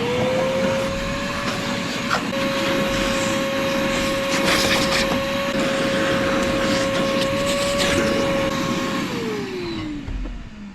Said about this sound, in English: Do a little more vacuuming